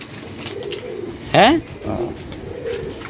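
Pigeons give low, murmuring coos in a loose rhythm nearby, broken by a brief human voice.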